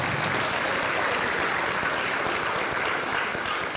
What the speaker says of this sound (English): You guys like to clap.